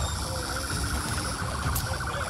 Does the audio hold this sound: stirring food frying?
no